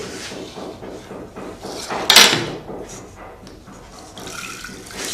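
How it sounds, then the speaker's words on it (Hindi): Water is poured into a pot of soaked lentils, giving a close, splashing gush that peaks in a sharp burst midway before settling into a softer trickle. "इसमें भी पानी डाल देंगे हम ऐसे ही।"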